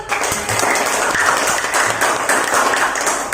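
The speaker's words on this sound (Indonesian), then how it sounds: "Kasih tepuk tangan dulu dong." A classroom of students applauding together, a continuous dense patter of many hands clapping at steady loudness for a few seconds, close and filling the room.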